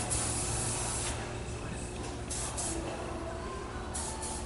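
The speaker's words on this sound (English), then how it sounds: "This was a lightweight hairspray." Lightweight hairspray hisses from an aerosol can in a continuous soft spray lasting several seconds, with brief pulses as the nozzle is pressed, close and fairly quiet with no speech.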